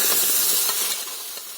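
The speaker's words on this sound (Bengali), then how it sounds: "যে গাজরটা পেস্ট করেছি ওই গাজরটা আমি এবার কড়ার মধ্যে দিয়ে দেবো" Carrot paste hits a hot wok on a gas stove, letting out a loud, close burst of steamy hissing sizzle that gradually eases over under two seconds.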